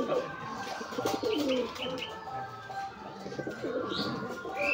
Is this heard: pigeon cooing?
yes